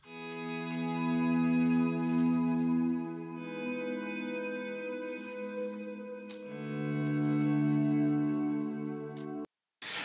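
Ambient electric guitar swells through Guitar Rig 6, each chord fading in by hand and ringing on with echo and reverb in three long sustained washes, then a brief gap and a short restart at the very end; no one speaks.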